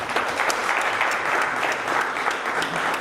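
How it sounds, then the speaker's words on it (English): A crowd claps steadily in dense, sustained applause at a city run awards event, loud and even throughout with no voices standing out. "Give yourselves a round of applause as well."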